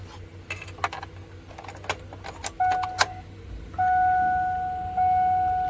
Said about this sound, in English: So we'll put our key in the ignition.